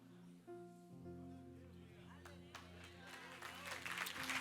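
A church congregation at a Monday evening service breaks into applause that swells toward the end, layered over sustained music and a voice.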